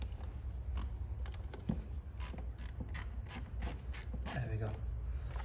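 A bolt being worked out on a BMW X3 with the N55 engine during a downpipe swap: a run of rapid, faint, evenly spaced ratchet clicks, close and quiet, with no talk over it.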